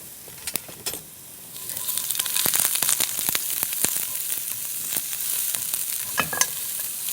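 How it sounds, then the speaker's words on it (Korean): Onions stir-fried in a pan, a steady sizzle that swells once they hit the hot oil, broken by a few sharp spatula scrapes and taps. "그다음에 이제 제가 양파를 볶을 거예요."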